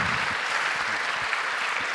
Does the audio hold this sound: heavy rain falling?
no